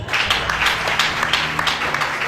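A church congregation bursts into steady applause and clapping at a preacher's prompt, a dense, even wash of many hands lasting a couple of seconds with no talk over it.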